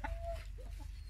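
Chickens clucking on a farm with a cat among them, a few short clucks and a thin squawk over a low background rumble, fairly faint and close, with no talking.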